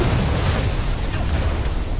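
Grenade blast in the video game Cyberpunk, a dull rumbling explosion with low booming energy that stays steady and moderately loud for about two seconds.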